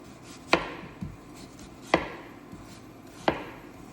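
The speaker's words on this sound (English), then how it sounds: "We're just gonna go around and cut off our peel, just like Carl showed." A knife slices the peel from a sweet potato on a cutting board, giving three crisp, evenly spaced chopping knocks with softer scraping between them, close and alone with no voices.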